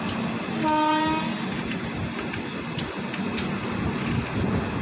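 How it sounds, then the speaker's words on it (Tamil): A train draws into a busy Chennai station, its horn sounding a long clear toot early on over the continuous rumble and clatter of rolling wagons, with a few sharp metallic knocks afterward. "இப்போ நம்ம ட்ரெயின் வந்துட்டு இருக்கறனால தான் இந்த ட்ரெயின் வந்து இங்கே ஸ்டாப் பண்ணியிருக்காங்க"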